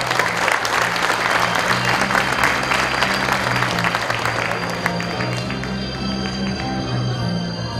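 A crowd at a school graduation ceremony applauds the newly graduated students, sustained dense clapping with faint steady music underneath, easing slightly toward the end.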